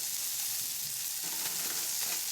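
Food sizzles and fries steadily in a pan over a small stainless wood gas pellet camping stove, a dense continuous crackle close by with no talking.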